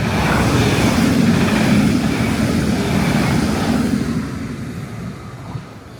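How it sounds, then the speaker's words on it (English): A fast train passing by, a loud broad roaring rush that holds steady for a few seconds and then fades away as it moves off, with no talking. "see, now that is a quick train"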